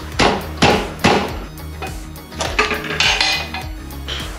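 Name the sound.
knocking on AJP PR7 motorcycle engine cover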